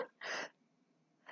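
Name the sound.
sneeze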